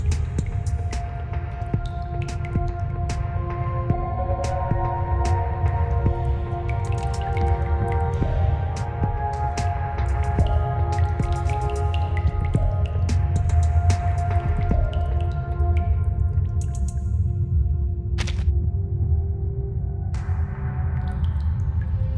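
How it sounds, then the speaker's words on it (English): In the game Reverse: 1999, water drips steadily from the side of a ceiling near a window. The small drips tick over a constant low hum and ambient drone, and no one speaks. "Water keeps dripping down from the side of the ceiling near the window"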